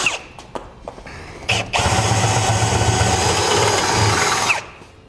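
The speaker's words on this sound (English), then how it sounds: "Now I'll take my 1/2 inch drill bit." After a few short clicks and brief bursts, a power drill with a half-inch bit runs loudly and continuously for nearly three seconds before winding down.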